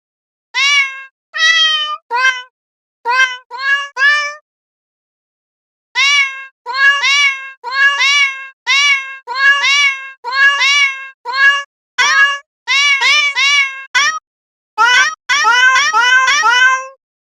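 Cats meowing within a music track: a loud, rapid, rhythmic series of close meows arranged in repeated bursts with short pauses, pitched and sequenced like a beat, with no talking.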